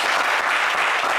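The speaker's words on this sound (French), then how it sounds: "On vous applaudit." A French television game show studio audience breaks into brief, dense applause, a short loud burst of clapping with no voices over it.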